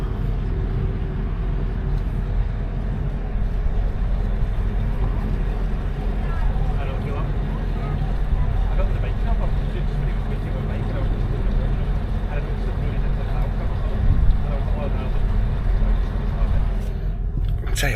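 Lake ferry on Windermere crossing slowly at a few miles an hour, a steady loud engine rumble and drone running throughout, close and constant, with no talk and a brief rustle near the end.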